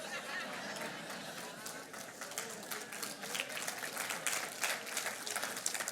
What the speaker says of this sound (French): Pourquoi vous applaudissez?